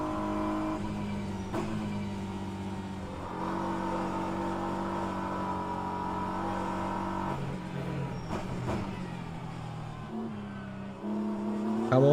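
A hypercar engine in rFactor 2 at Interlagos, droning and revving steadily in the game with shifts in pitch and a sharper rise at the end, heard alone without talk.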